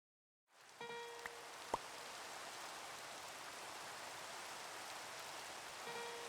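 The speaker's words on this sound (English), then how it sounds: "And it's raining." Rain falling in the Minecraft modpack Sevtech Ages, a soft, steady hiss of rainfall starting abruptly and continuing evenly at low volume, with a few brief game tones and clicks early on.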